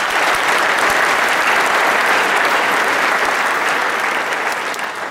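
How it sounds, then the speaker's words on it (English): A university business school commencement audience gives a loud, dense round of applause that carries on steadily throughout and only begins to ease slightly at the close, with no speech over it. "Please give all of them a round of applause from yourselves."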